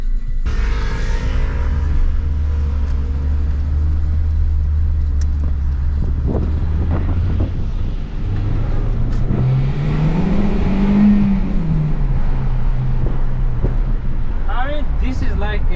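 A Toyota Corolla E12 runs as an ordinary daily car, its engine droning low and steady, then rising in pitch as it accelerates before easing off, heard from inside with a voice talking over it.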